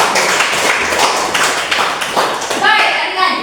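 A classroom of children claps together briefly, a burst of fairly close hand claps mixed with young voices talking over it.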